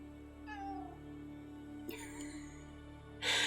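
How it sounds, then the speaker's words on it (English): A pet cat meows softly indoors, with one short, faint meow followed by a couple of quieter sounds over a low steady background hum. "My cat says hello"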